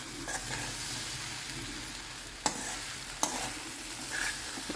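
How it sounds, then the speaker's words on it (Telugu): Uggani, a puffed-rice dish, being stirred with roasted gram powder in a hot pan, with a steady soft sizzle under scraping stirs and two sharp spoon knocks against the pan. "కలుపుతున్నా."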